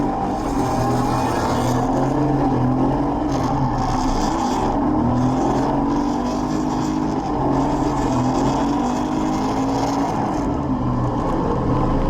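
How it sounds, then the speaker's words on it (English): A car engine misfires while driving, a loud continuous engine drone with an uneven, stuttering pulse throughout. "I think my car is misfiring."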